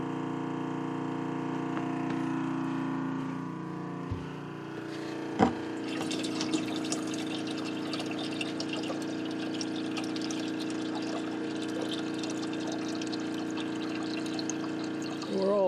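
A pump hums steadily as fresh water pours and gurgles into a jug aboard a boat, with a knock partway through and continuous splashing filling sounds afterward.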